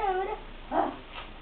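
A pug gives a couple of short, high whimpering whines, close and brief, with a soft pause between them.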